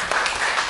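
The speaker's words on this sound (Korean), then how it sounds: "박수 주세요." Audience applause at a university lecture on understanding struggling learners, a short burst of dense clapping from a room of listeners, steady and fairly loud throughout.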